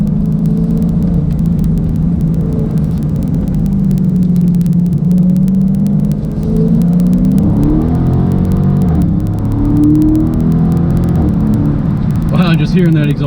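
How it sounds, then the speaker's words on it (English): A 2016 Dodge Charger Scat Pack pulls hard under acceleration, its exhaust barking and rumbling loudly and close for the whole stretch, with the note rising and shifting pitch as it climbs. A voice talks over the engine throughout. "Just hearing that exhaust bark is just invigorating."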